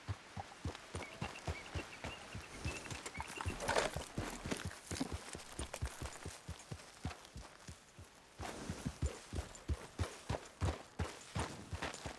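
Horse hooves clip-clop at a steady walking rhythm in Red Dead Redemption 2, the even thuds continuing for several seconds with a brief swell of movement midway. There is no speech over them.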